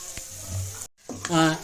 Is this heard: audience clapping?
no